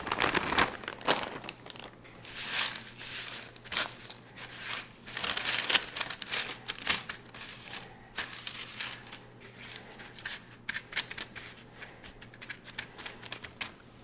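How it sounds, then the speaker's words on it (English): Frozen hash browns being spread across a parchment-lined cookie sheet make quiet, irregular crinkles and rustles, with scattered papery crunches coming in bursts over a long stretch. "we're going to take these hash browns and we're going to spread them out on our cookie sheet covered in parchment paper"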